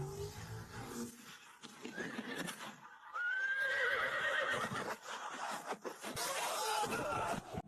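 A giant iron horse come to life neighs in a long, loud whinny that rises and wavers over a busy, rumbling background with hoof-like clatter, close and dominant with no clear talk.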